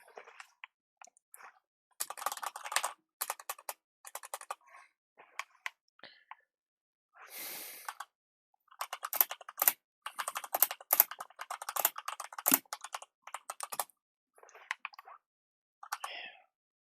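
Fingers typing on a computer keyboard, heard as quiet, close bursts of rapid keystrokes separated by short pauses, with no one talking.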